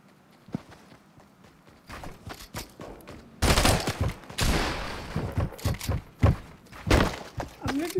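A heavy gun fires in Fortnite, loud booming shots coming in an irregular rhythm with thuds and movement noises around them, quiet at first and then much louder and nearer.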